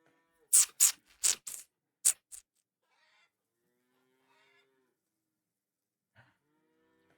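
Cattle mooing in the farming video game Farmer's Dynasty, a rapid run of five or six loud close moos followed by near silence and a few faint game noises.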